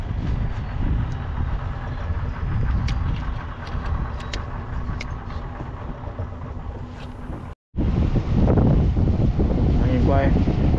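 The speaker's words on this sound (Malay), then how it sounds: "Angin kuat" Strong wind roars steadily across the microphone during barramundi casting at Ban Putus, a loud broadband rush with a brief dropout near the end and some talk mixed in.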